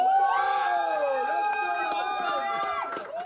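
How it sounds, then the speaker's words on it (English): A crowd cheers at the launch of a video game made in Quebec from an Indigenous perspective, with loud whoops and raised, sustained voices shouting together close by. "The cheering is well-deserved."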